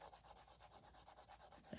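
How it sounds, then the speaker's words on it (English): A pencil eraser rubbing back and forth across drawing paper in a steady, fast scrubbing rhythm, quiet and close, with no voices. "next we're going to use our eraser and erase all the"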